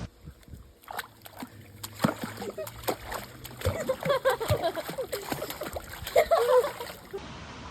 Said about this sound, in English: I'm gonna go swim.